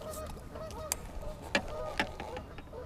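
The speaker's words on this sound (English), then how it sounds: "God, those geese," Geese honk by a small lake where someone is float fishing, several loud separate calls scattered over a few seconds above quiet outdoor background.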